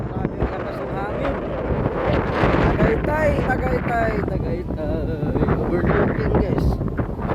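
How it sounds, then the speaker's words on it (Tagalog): Strong wind buffets the microphone at a Tagaytay overlook at night, a loud continuous roar with gusts while a person talks over it. "Grabe ang lakas ng hangin."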